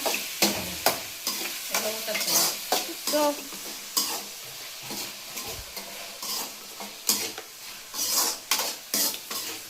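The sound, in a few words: stirring beetroot curry with coconut masala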